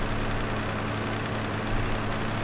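A steady, low tractor engine drone from the video game Farming Simulator 2015 hums continuously, even and unchanging with no voices.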